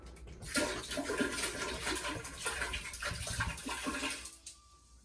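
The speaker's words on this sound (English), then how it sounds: "with the bottle, I'll grab it with 2 hands and discard of the pee into the toilet" Urine pours from a bottle into a toilet as a steady, close splashing stream lasting a few seconds, then tapers off into quiet; no one speaks.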